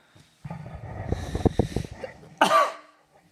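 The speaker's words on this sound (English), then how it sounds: "you start every episode with a cough" A close, hoarse cough fit: a cluster of rough bursts followed by one sharp, louder cough near the end, with no talking.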